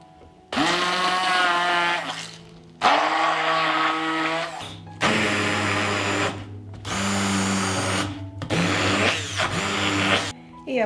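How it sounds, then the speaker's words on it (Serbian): An immersion blender purees chicken pâté seasoned with lemon juice, salt and pepper, its motor whining loudly in about five separate bursts with short quiet gaps between them. "I na kraju ću sve usitniti štapnim mikserom."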